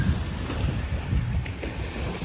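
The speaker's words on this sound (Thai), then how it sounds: "มีเรือหาปลา" Fishing boat out on the sea off a Thai beach in the early morning, heard as a steady broadband wash of engine, waves and wind noise, continuous and fairly loud, with no talking.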